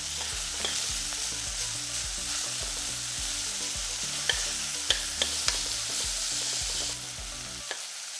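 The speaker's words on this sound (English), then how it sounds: "Fry the pork till it's no longer pink." Pork sizzles steadily in a hot pan while a utensil stirs it, with a few sharp scrapes and clinks against the pan toward the end. The frying continues close and even throughout, with no voices.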